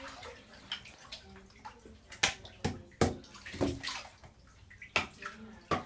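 Water sloshes and splashes in a bathtub, with irregular close splashes and drips that come in bursts, some louder than others.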